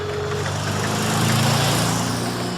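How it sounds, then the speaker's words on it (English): A magnificent motor car drives past on a country road, its engine a steady mechanical drone that swells slightly as it passes and then holds on. "suddenly a magnificent motor car drives past"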